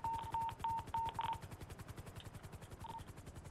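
Rapid rhythmic thudding of helicopter rotor blades in GTA, continuous and steady, with a few short electronic beeps over it near the start.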